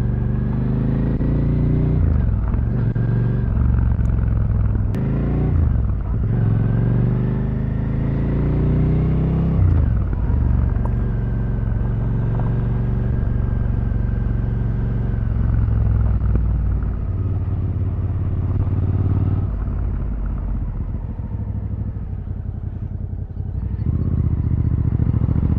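A Suzuki SV 650 motorcycle engine from 2025 rumbles at low speed in third gear, a close, steady deep throb with brief revs and pitch changes as it pulls along, no talk over it.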